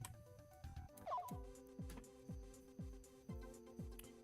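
A dog gives a series of short yips and barks, about one every half second, fairly close, with a soft whimper near the start and tonal background sound under it.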